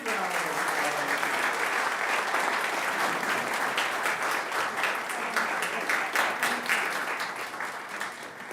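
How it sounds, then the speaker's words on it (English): A congregation applauds steadily in a church service welcoming new members, dense clapping filling the room without a break, loud and close, easing off slightly toward the end. "Big round of applause."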